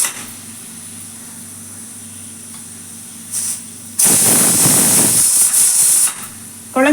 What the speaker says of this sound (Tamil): கேஸ் ரிலீஸ் பண்ணி விட்டுட்டேன்